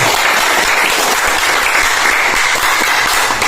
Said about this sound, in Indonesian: Jadi tepuk tangan untuk Dinas Tenaga Kerja ini.